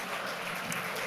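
An audience at a mathemagics stage performance applauds a young volunteer, giving a brief, steady wash of clapping at moderate level.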